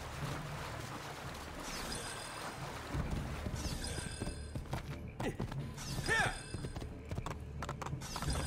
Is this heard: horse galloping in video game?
yes